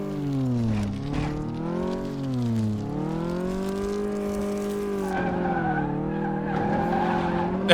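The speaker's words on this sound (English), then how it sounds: "This is all gravel. It's got terrible traction." Volkswagen Beetle sliding and skidding across loose gravel in a car mechanic simulator game, a continuous engine whine rising and falling with tire scrub, steady and fairly loud throughout.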